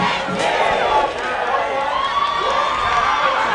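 A huge crowd at a night high school football game cheers and shouts loudly, a dense, continuous roar of many voices with scattered whoops filling the whole stretch.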